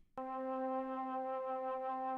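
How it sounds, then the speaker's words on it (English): A single sustained Mellotron note with a rich, steady harmonic tone, entering sharply and holding evenly at full volume. "The next thing I did was I added this Mellotron."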